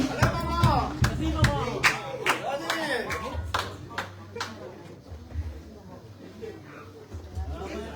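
Scattered hand clapping breaks out for mothers at a Mother's Day church service, sharp claps in a loose burst that thins out, with congregation chatter and a voice underneath.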